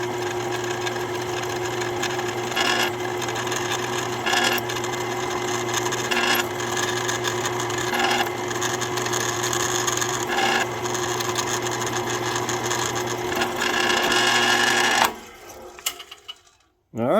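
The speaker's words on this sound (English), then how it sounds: "now I'm getting ready to drill a hole through it. This is a 1/8 inch drill bit." A drill driving a 1/8 inch bit through a metal bolt in a garage, a steady whining hum with rhythmic grinding pulses that stops abruptly near the end, followed by a few clattering handling noises.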